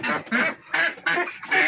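Ducks at a farm and nursery quack from inside their cage, five loud, close bursts coming in a steady rhythm with brief gaps between them.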